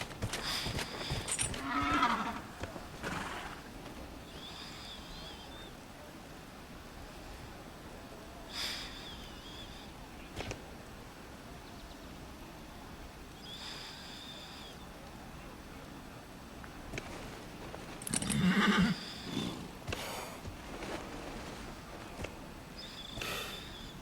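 A horse in the video game Dragon Age: Inquisition gives a few snorts and whinnies amid clip-clopping hooves over a steady background hum, with a louder burst near the end.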